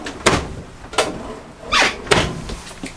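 Several drawers in a 2017 Airstream Flying Cloud 25-foot travel trailer sliding open and bumping shut, a series of sharp close thuds and short slides, close by.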